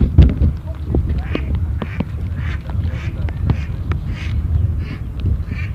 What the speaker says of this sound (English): Is it the Joker that makes that funny quack quack kind of noise